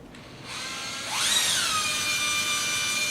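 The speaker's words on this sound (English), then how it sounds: "go ahead and start drilling" A power drill whirs up to speed with a rising whine, then holds a steady high-pitched drone, close and fairly quiet.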